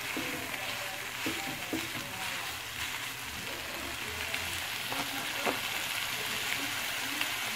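Beef frying in a pan with olive oil as part of a home-made Italian spaghetti, a steady soft sizzle with faint stirring clicks, continuous and moderately quiet throughout.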